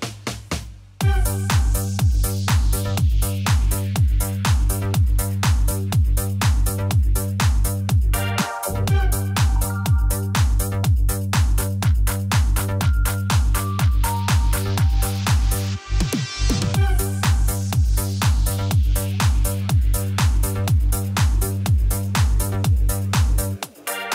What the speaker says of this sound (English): The classic disco bass sounds like this.